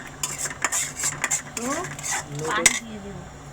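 Egg frying and being stirred in a metal pan while cooking noodles, with clattering of a utensil against the pan and a soft sizzle, as a voice speaks over it.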